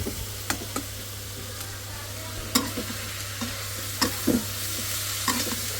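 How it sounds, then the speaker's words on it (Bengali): Vegetable bhaji frying in oil in a pan, a steady sizzle under repeated sharp scraping and tapping of a spatula stirring at irregular intervals, close and clear, with no talking. "আমার ভাজি হয়ে গেছে এখন শুধু ভাজা ভাজা করবো"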